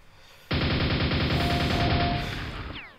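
A Quake nail gun opens up and fires a dense, continuous stream of rapid mechanical shots for about two seconds, loud and close, then cuts off.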